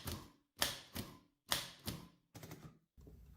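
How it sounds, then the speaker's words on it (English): Typewriter with a moving ribbon support being typed on, producing a run of distinct mechanical clacks in uneven bursts, close and fairly loud with no voices. "It also has a nice movement of the ribbon support while typing."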